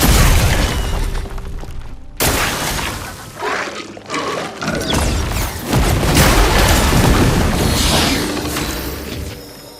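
Fire spell exploding in the video game Expedition 33, a series of heavy booming blasts with shattering crashes and roaring bursts, loud and dense with a brief lull midway before a long rumbling surge.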